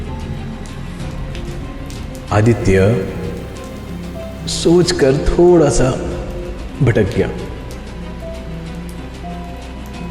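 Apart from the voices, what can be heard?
heavy rain sound effect in horror story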